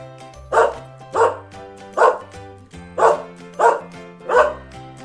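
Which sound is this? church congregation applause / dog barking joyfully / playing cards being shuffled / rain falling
dog barking joyfully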